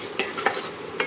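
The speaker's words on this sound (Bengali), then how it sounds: "একটু ভেজে নেবো, অলরেডি অর্ধেক ভাজা রয়েছে" Spinach paste fries in a pan for rice, giving a soft steady sizzle broken by three quick scraping stirs, close and alone without talk.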